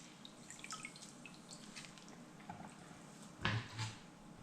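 Limes are rinsed under a running kitchen tap, the water a faint, steady wash with a few light drips and a short, louder splash near the end.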